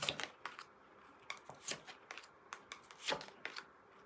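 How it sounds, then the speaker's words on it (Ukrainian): Tarot cards are shuffled and riffled in quick, crisp bursts of rustling and snapping, close and fairly quiet, with no talking. "Цікаві такі карти падають."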